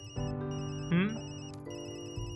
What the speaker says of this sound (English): Damn, that's my work phone.